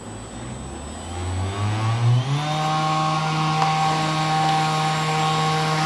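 A homemade fan driven by an old hard disk motor spins up with a rising whine and settles into a steady, tonal electric hum that runs on alone and close.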